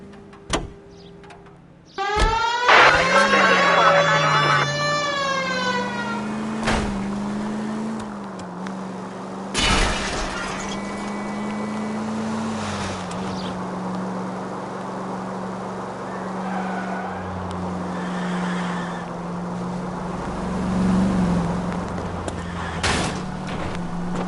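A car in the PS4 game L.A. Noire drives with a steady engine drone; a sharp rising whine and several thuds mark the start, then the motor hums on at an even pitch.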